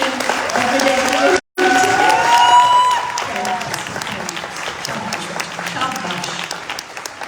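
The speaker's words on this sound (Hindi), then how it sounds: "तो एक बार जोरदार तालियां अक्षय" Loud applause from a seminar audience at a Modicare event in Delhi, a dense sustained clapping with a brief cut partway through and faint voices mixed in.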